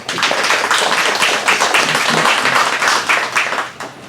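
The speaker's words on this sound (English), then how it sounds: "let's give them a round of applause" Audience at a business planning and budgeting session gives a round of applause, dense continuous clapping from many hands, fairly loud and close, fading slightly at the end.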